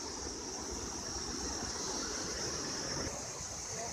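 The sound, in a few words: Modi River flowing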